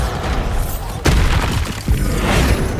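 Bombardo blasting spell in the Hogwarts Legacy game: two heavy, booming explosions, the first striking after about a second and the second shortly after, over a dense bed of ongoing combat noise.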